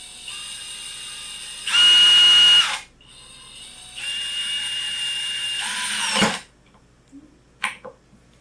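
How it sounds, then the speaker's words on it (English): DeWalt 12V Xtreme subcompact DCF601 screwdriver driving a screw into wood: two loud, close bursts of high motor whine, a short one then a longer one, followed by a few light knocks and clacks. "Now we're going to use the Dewalt screwdriver."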